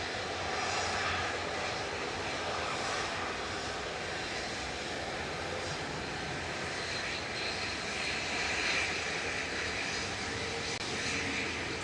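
A pair of propeller airliners departs Manchester Airport in a crosswind, their steady engine drone filling the air at moderate distance and holding a fairly constant level throughout.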